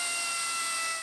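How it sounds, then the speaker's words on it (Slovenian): A commercial pneumatic drill with a vane motor runs on compressed air, producing a loud, steady, high whine with a bright hiss and clear tonal lines that fade slightly at the end. "Nato sem pomislil, da bi moral preizkusiti komercialni pnevmatski vrtalnik, saj ta prav tako uporablja lopatični motor"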